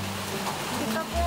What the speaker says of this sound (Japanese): これはでも雨収まるかしら。